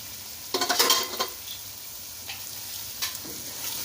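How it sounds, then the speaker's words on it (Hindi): Chicken pieces fry in hot oil with ginger and garlic, a steady sizzle close by, broken by a cluster of scraping, clattering stirs of a utensil against the pan and a few lighter knocks afterward. "चिकन को हम अच्छे से मिक्स करेंगे और 10 मिनट तक हम इसको अच्छे से फ्राई कर लेंगे।"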